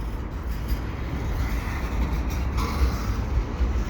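A CN freight train of double-stack cars rolls past with a steady, broad rumble and rattle, fairly close and continuous, with no talk.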